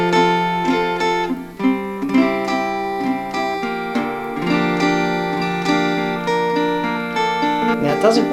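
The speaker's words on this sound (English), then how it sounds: "the arpeggio sweeping sounds like this" Acoustic guitar arpeggios swept upward across the strings in a campfire strumming style, ringing chords played steadily and close, with no talking.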